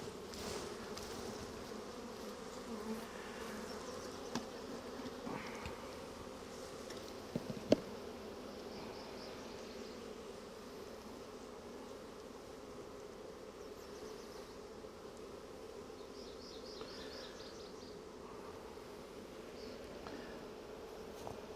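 Honeybees drone softly in an open hive while a beekeeper checks frames for queen cells, a faint, steady buzzing hum with a few small knocks and clicks scattered through it.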